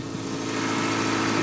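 The engine of a cheap used Japanese car idles roughly with a worn, poorly running note, a steady low rumble with an uneven vibrating throb, close and fairly loud with no talk.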